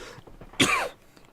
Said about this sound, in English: tickly cough at the back of my throat